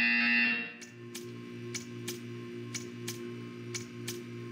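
A buzzer in the video game Portal 2 sounds in a regular series of short sharp pulses over a steady electronic hum, following a brief louder tone at the start.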